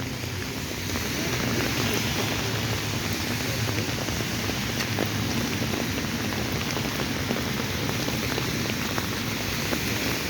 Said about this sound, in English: it's been raining, a lot of rain coming down